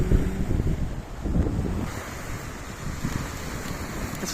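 Strong wind buffets a microphone outdoors, with a continuous, loud rumbling roar that swells and dips unevenly. No one speaks.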